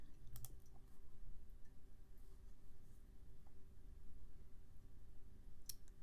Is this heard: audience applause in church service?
no